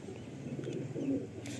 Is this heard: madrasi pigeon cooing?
yes